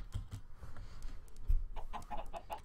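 A chicken clucks in Minecraft, several short soft clucks coming close together in a quiet game scene, with a few thumps among them.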